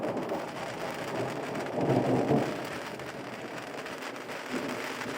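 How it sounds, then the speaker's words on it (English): Steady rain drumming on a canal boat on the Grand Union Canal during a thunderstorm, with a low rumble of thunder swelling midway, continuous and fairly loud with no talk. "Nothing quite like sitting up here in the dry watching a thunderstorm."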